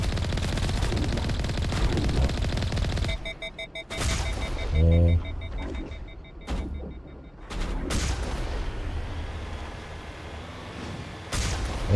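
Bursts of gunfire in the video game Mass Effect 1, with sharp broadband shots and a booming impact through the first half, loud and continuous, under game sound and occasional talk.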